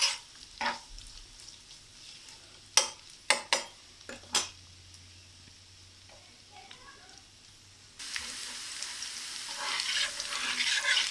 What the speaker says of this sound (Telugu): చక్కగా కలర్ వచ్చే వరకు కాకరకాయలు ఫ్రై అవ్వాలండి.